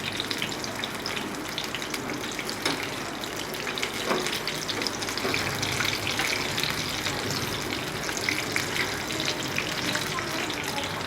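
Stuffed green chillies fry in hot oil in a pan, giving a steady close sizzle and crackle with scattered pops throughout, while someone talks over it.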